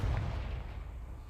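A blasting spell explodes in Hogwarts Legacy: a single heavy, low rumbling boom that is loud at the start and fades away over about a second, with no voices.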